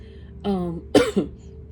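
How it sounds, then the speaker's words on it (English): A voice clears its throat twice in quick succession, a short hum followed by a rougher, louder rasp, close to the microphone in a quiet room. "I might be clearing my throat throughout this process"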